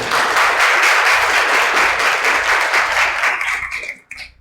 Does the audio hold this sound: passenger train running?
no